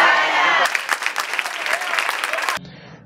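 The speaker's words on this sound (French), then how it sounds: "Les populations du 12e arrondissement ont marqué leur présence par des applaudissements nourris" Crowd applause bursts out at an outdoor FCBE political campaign rally in the 12th arrondissement, a loud dense wash of clapping that follows a brief stretch of noise and then cuts off abruptly.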